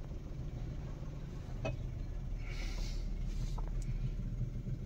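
A car reverses slowly as the driver releases the clutch with no throttle during a driving lesson, giving a steady low engine rumble near idle that stays even throughout, with no voices.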